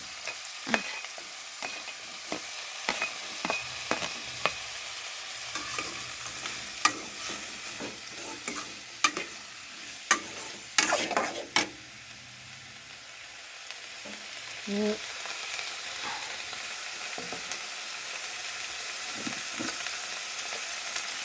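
Eggplant fries in a pan with a soft, steady sizzle, broken by repeated sharp scrapes and clinks of stirring, close and alone without talk.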